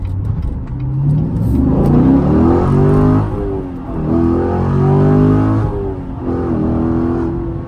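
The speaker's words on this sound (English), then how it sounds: "let's try another acceleration" A C7 Corvette Stingray engine with an Injen intake and X-pipe revs hard through several accelerations, a loud, raspy rising growl that swells, dips briefly, then climbs again, close by with no talking.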